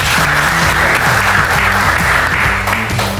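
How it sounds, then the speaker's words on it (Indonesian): Eleventh-grade high school students fill a school hall with continuous, loud group clapping over a pulsing music track, holding strong for the whole stretch. "Yang kelas 11 boleh tepuk tangan."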